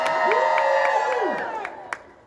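Audience at a 90s fan convention in Tampa cheering, whooping and making noise for a group photo, a loud crowd roar with a sustained high whistle-like tone gliding through it and a few sharp claps.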